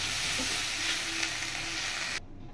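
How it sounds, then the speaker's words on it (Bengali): Green jackfruit sizzles and fries steadily in a pan with a dense, continuous hiss, cooked with salt and turmeric, until the sound cuts off abruptly near the end. "এঁচোড় ভাজা হয়ে গেছে"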